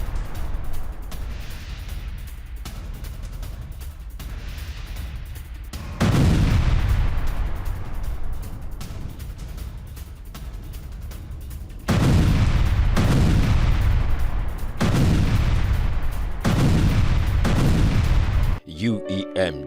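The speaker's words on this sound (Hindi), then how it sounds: "हमास ने मोर्टार और ग्रेनेड अटैक किया है" Mortar and grenade attack on an Israeli tank in central Gaza, a series of loud booming blasts with rumbling tails that recur every few seconds and sound distant and heavy in news footage.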